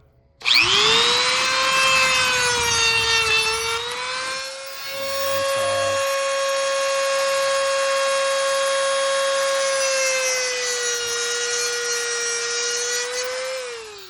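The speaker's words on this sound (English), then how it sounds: "I'm just gonna use my Dremel with a cutting blade just to take off each of these wings on each side." A Dremel rotary tool fitted with a cutting blade cuts the side wings off a plastic strap slide bracket, making a loud sustained high whine that dips briefly as the blade bites, then holds steady until it stops.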